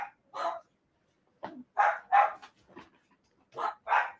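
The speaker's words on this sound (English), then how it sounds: "The wife is not here, so the dogs go nuts." Several dogs bark indoors in short, loud bursts, a few yips and barks in quick pairs separated by brief silences, with no one speaking over them.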